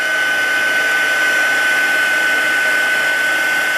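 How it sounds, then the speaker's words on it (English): A heat gun blowing steadily to melt embossing powder for a tarnished foil craft effect, a continuous loud airy whoosh with a fixed whine running unbroken throughout, no talking. "just until my heat gun gets warm so it doesn't blow the powder all over the place"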